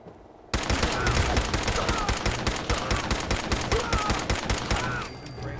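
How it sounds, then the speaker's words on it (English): Rapid gunfire from a raider's gun in the VR video game Fallout 4, a dense burst of repeated close shots that starts abruptly and runs loud and continuous for about five seconds before cutting off. "I don't know if the gun is so weak or if I'm missing half of my shots"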